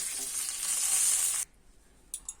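Water poured onto spices frying in a pan for a shol fish bhuna sets off a loud, bright sizzle lasting over a second, which then cuts off to near quiet with a couple of faint clinks.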